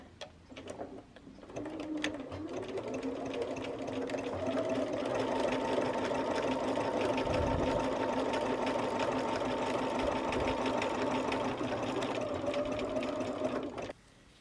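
A sewing machine runs a wide zigzag stitch while attaching a part to a bustier, a close, steady rapid whirring chatter that starts after a few clicks, holds for about twelve seconds, then stops.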